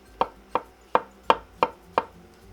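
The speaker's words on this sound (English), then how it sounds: "And then I'm going to go ahead and just chop them." A Damascus-finish knife chops halved mushrooms on a cutting board in six evenly spaced, crisp thuds, close and clear with no talking.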